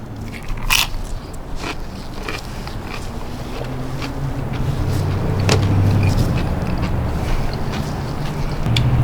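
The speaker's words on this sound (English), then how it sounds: "One final bite here with a little bit of lime" Close crunchy bites and chewing of smoked queso dip with chorizo, hot Rotel tomatoes, jalapeños and a squeeze of lime, with a sharp crackle early on and then steady mouth sounds.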